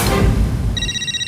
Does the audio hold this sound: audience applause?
no